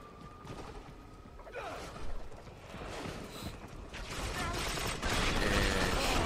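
Gunfire and mechanical clatter in the video game Gotham City Impostors, a muffled, dense stretch of shots and action noise that builds louder toward the end, with no talk.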